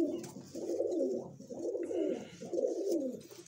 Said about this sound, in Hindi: तो बताइएगा दोस्तों कमेंट में कि कैसे हैं ये कबूतर